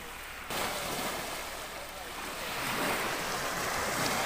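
Gentle waves on Lake Albert in Congo, with small boats nearby, wash in a steady broadband hiss that swells slightly louder toward the end, with wind across the microphone and no clear voices.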